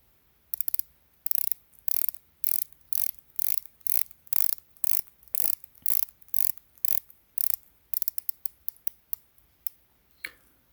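A Seiko ProSpex solar diver's watch bezel is turned in a long run of crisp, close ratcheting clicks, grouped in quick bursts with brief pauses, ending in faster rapid clicking.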